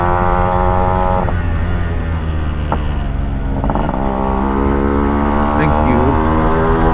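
A Yamaha RX 135 motorcycle with a five-speed gearbox is ridden on the road. Its engine drones loud and close throughout, with brief pitch dips and rises as the throttle changes.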